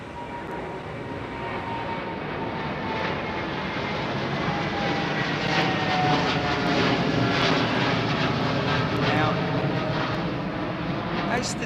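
A WestJet airliner near runway 09R at London Heathrow produces a loud, steady jet roar that builds slightly and holds for about twelve seconds, with a voice talking over it.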